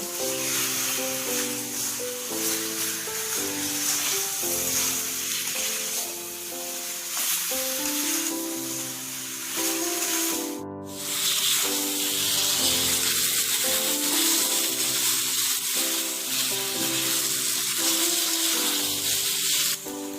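Chicken cooks on a medium-high flame with a constant hissing sizzle that runs the whole time beneath background music, with a brief dip partway through.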